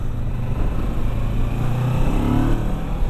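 A Kawasaki Versys 650 2017 motorcycle engine roars steadily with a rising rev, loud and close, accompanied by rushing wind noise throughout.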